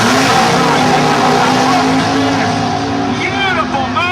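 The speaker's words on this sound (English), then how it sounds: "here comes the Pontiac in the right lane, and that big old Pontiac Goat ready to do its stuff" A big old Pontiac GTO drag car roaring off the line and down the strip, a loud sustained engine howl with rising pitch sweeps late on, heard under a public-address commentator talking throughout.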